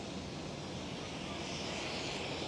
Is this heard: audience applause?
no